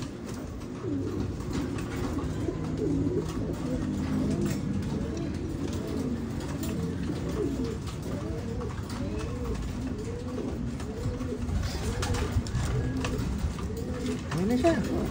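Pigeons at a nest during hatching give repeated soft, throaty coos in a steady rolling rhythm, close and continuous against a faint background hum.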